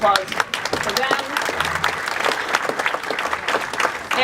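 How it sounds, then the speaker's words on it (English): A conference audience claps in dense, sustained applause that holds at an even level and fills the room from start to end. "So big round of applause for them."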